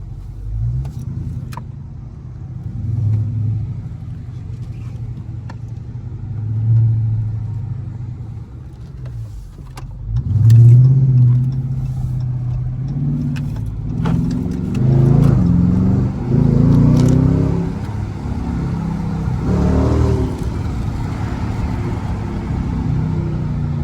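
A Dodge Charger RT engine rumbles deep and low, heard from inside the car in traffic, swelling in several revving surges through the second half.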